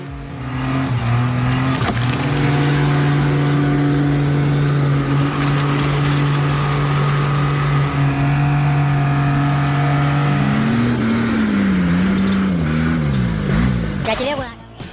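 Powerful trucks revving hard and racing with tire squeal, a loud sustained engine drone that climbs and wavers in pitch near the end, with a voice talking over it.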